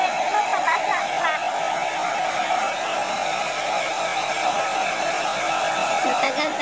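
A blow dryer runs steadily and loudly, close by, as it dries a puppy's thick fur. Its even hiss and whine hold unchanged throughout, with no pauses.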